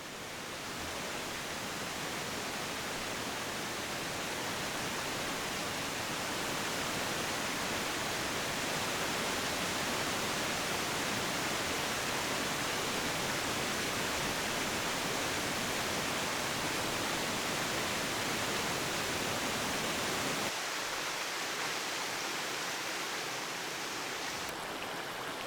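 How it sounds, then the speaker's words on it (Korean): Towangseong, a 320 m three-tier waterfall pouring between sheer cliffs: a dense, constant roar of falling water, broadband and unbroken, softening slightly near the end. "깎아지른 절벽 사이로 물이 흐르는 3단 폭포죠."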